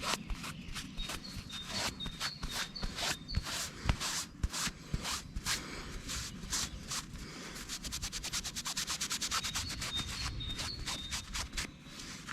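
Cloth rag rubbing resin off a surface, a quick series of soft scratchy strokes in a steady back-and-forth rhythm, close and fairly quiet, with no talk.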